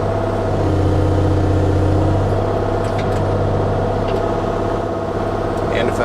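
An excavator fitted with a custom grapple and long arm lifts a big heavy log, its diesel engine droning steadily and loudly under load, with faint clanks near the end and someone talking over it.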